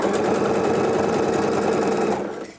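A sewing machine runs in one steady, continuous burst as it stitches wool coat fabric, with a fast even motor whir and needle chatter. It stays loud and close, with no talking, then stops abruptly near the end.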